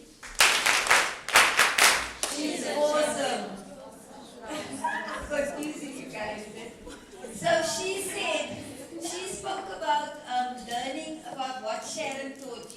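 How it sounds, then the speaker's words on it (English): An audience bursts into a short round of clapping at a communication and digital skills session, loud for a couple of seconds before dying away as a voice resumes talking over the room. "Can we do a clap for"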